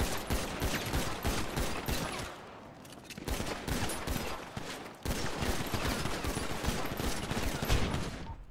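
Sustained rapid gunfire from a GTA roleplay server shootout, dense volleys and bursts crackling almost continuously, loud and close, with a brief lull before the shooting resumes.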